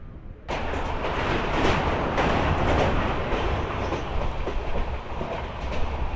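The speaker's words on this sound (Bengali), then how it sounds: "এবার চলুন ট্রেন ট্র্যাক চেঞ্জ করছে" The Gurumukhi Superfast Express, running from Asansol toward Kolkata, crosses onto another track. A loud, steady rumble of wheels carries a faint rhythmic clatter throughout and cuts in sharply after a brief quiet start.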